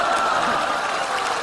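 A theatre audience at a comedy sketch performance bursts into continuous applause, a loud, even wash of clapping lasting the whole moment without talk.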